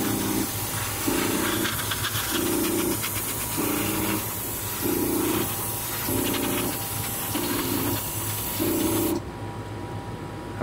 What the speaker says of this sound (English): we're going to be laying down some Gunge GX2 black, which is a super shiny, wonderful black paint